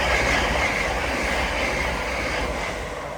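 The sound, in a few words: two Class 379 electric trains passing through Alexandra Palace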